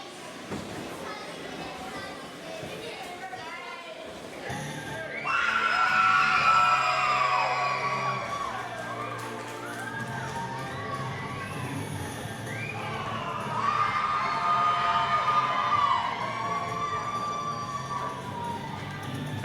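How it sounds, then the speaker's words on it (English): A UPW wrestling audience boos and jeers in a live arena, a crowd roar that swells twice and fades, heard under a commentator's talk. "if you heard the UPW audience booing Lynx Lewis Jr., it's because they knew this was his opponent"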